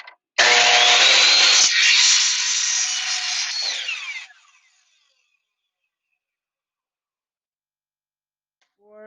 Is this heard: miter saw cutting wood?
yes